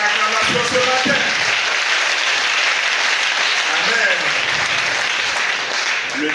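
A church congregation at a Sunday service claps loudly and continuously, a dense, even wash of applause filling the room, with voices mixed in beneath it.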